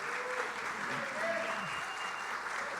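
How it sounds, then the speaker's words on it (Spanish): Steady, moderately distant applause from a church congregation during a talk, clapping continuously throughout with a voice speaking faintly underneath. "un aplauso."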